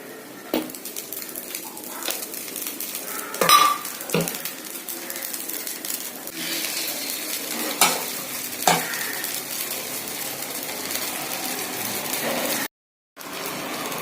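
Millet adai dosa batter made with pearl millet, kodo millet, whole green gram, urad dal, ginger, garlic, cumin and pepper sizzles softly and steadily in an oiled pan. Scattered clinks and scrapes of a utensil sound against the pan, with a brief gap near the end.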